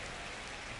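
Steady rain falls in the baseball game MLB The Show 26, a constant dense hiss of drops on the surface during a Yankees versus Blue Jays game, with no voices.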